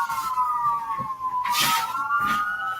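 A police siren wails nearby, its rising and falling tone steady and prominent over muffled background rumble.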